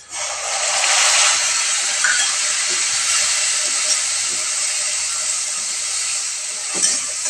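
Onions sautéing in a pan with a chili, ginger and coriander paste for pav bhaji give off a loud, steady, continuous sizzling hiss with no talking.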